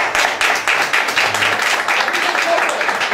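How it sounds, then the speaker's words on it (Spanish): Audience at a joke night in a bar bursts into a dense, steady round of clapping that fills the whole stretch at close range, with no pause. "Un aplaudiment."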